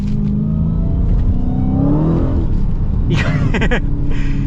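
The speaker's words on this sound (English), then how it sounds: "Gotta love the supercharger whine" A Dodge Challenger Hellcat accelerates with a loud, close engine rumble, while a rising supercharger whine climbs in pitch over the low drone; a brief voice cuts in near the end.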